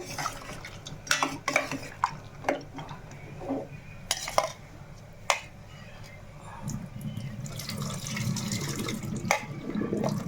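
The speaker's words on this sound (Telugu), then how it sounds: "వేరే గరిట తీసుకొని కలుపుతాను" Intermittent scraping and clinking of a ladle stirring mutton curry in a pot, with a few sharp metallic taps and a steady watery swish toward the end.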